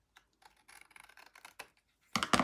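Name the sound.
long-bladed scissors trimming craft paper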